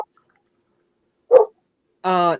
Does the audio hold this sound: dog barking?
yes